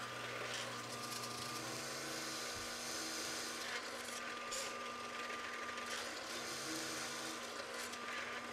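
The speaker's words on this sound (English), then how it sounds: "With a 7/8-inch hole saw, I drill the rest of the way through the board." Power drill fitted with a 7/8-inch hole saw boring through a wooden board, a steady loud continuous whine and grind that stays even from start to finish.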